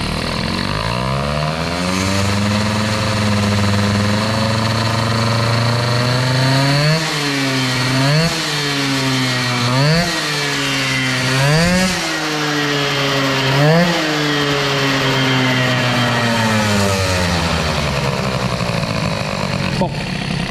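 A 103 moped fitted with an Airsal 65 kit runs with a buzzing, chainsaw-like two-stroke note, idling steadily and then revving in a series of short rising and falling bursts before settling back, close and loud throughout.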